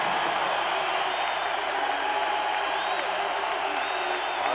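A packed basketball arena crowd at a 1989 college game between Illinois and Minnesota roars steadily, a dense wash of cheering and applause that holds without a break.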